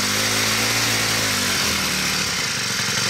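A Poulan pole saw's small two-stroke engine runs loud and close at high revs during carburetor adjustment, its buzzing pitch wavering and sagging as it bogs, continuous with no talk.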